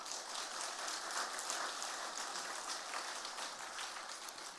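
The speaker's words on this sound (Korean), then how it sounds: "우리 영광의 박수 한번 돌리실까요?" A church congregation applauding together during a service, producing a steady, dense wash of clapping that sounds soft and distant and carries on evenly without any talk.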